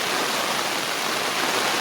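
Floodwater of a swollen river in the Konkan rushes loudly and steadily during torrential monsoon rain, a dense unbroken roar close by with no voices.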